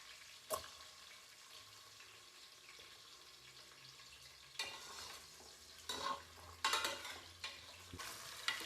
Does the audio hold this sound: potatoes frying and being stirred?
yes